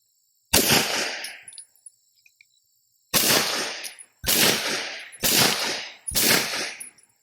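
Five loud, sharp gunshots from a Flux Defense Legion pistol firing 147 grain ammunition, the first alone and the other four in a quick irregular string after a pause, each with a short decaying tail.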